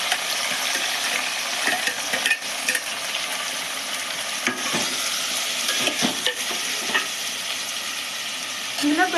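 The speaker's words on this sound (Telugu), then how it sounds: "అయితే ఉల్లిగడ్డ ముక్కలు కూడా వేసేస్తున్నానండి నేను." Tomato and onion pieces fry in a pan for an egg curry, with a steady sizzle broken by scraping, clinking stirs of a spoon against the pan throughout.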